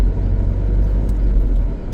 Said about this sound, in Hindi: गाड़ी आगे रोकता हूँ